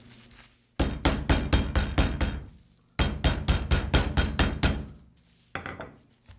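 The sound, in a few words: pounding block of butter wrapped in plastic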